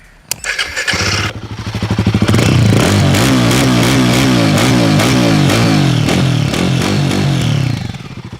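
A Royal Enfield Guerrilla 450 motorcycle starts with a click and catches, then its single-cylinder exhaust thumps steadily and loudly up close, rising slightly before easing off at the end.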